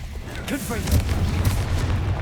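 Confringo blasting spell in Hogwarts Legacy, a heavy booming blast with a rolling low rumble and scattered crackle, loud and near, overlapping with a voice and other game effects.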